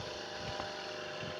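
Tractor engine in the Indian Vehicles Simulator 3D game, pulling a trolley, gives a steady low droning rumble with a faint broadband hiss, continuous and fairly close throughout.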